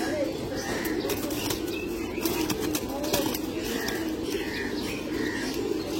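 Pigeons coo softly and repeatedly nearby as wings flap in short bursts, with light chirps over a steady background murmur.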